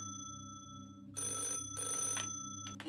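A telephone rings inside the TARDIS in the Fallout video game: two short electronic ring bursts sound moderately loud over a steady low hum, with no talking.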